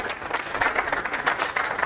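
Audience in a seminar hall claps together for about two seconds, a dense, steady burst of many hands at moderate loudness with no talking over it.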